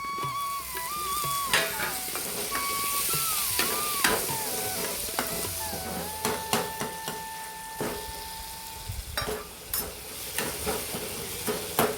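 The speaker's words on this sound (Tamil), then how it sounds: "இப்போ இந்த ஸ்டேஜில் தக்காளியை சேர்த்துக்கணும்" Tomatoes being stirred into a sizzling pan while making Madurai-style pepper rasam: a steady frying hiss with repeated scraping clatters of a spoon against the pan, fairly close, with no voices.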